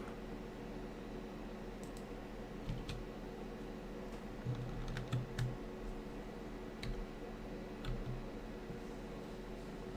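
Keys clatter on a computer keyboard in a steady background hum, with scattered soft clicks and small bursts of taps rather than continuous fast typing, at moderate distance.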